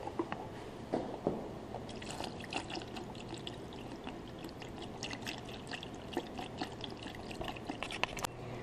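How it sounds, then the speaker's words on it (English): Coolant poured into the engine of a Honda CR125 dirt bike during a top-end rebuild, a soft continuous gurgling pour with small splashes and drips, close and fairly quiet, with no talking. "now we're going to dump the coolant in, and you just fill it up all the way"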